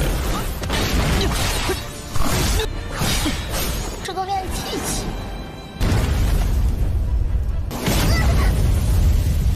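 A loud, booming explosion from a small fireball roars in with crashing, rushing noise, then surges again in heavy bursts of rumble.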